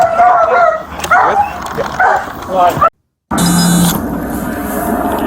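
Police dogs bark and yelp excitedly during a foot chase, with loud, mixed barking under urgent talk. A brief dropout follows, then noisy outdoor sound continues.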